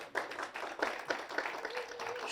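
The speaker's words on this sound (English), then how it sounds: "I want to give her a round of applause." Applause at a fall symposium, where a room of attendees claps in a short, quiet burst with irregular individual claps.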